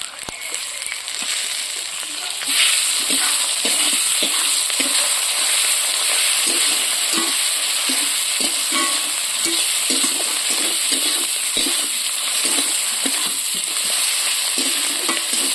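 Raw prawns cook in a spice masala for a taro-leaf, prawn and coconut dish, a loud steady sizzle and frying hiss running throughout, broken by rhythmic scraping and clinking as a utensil stirs the pan.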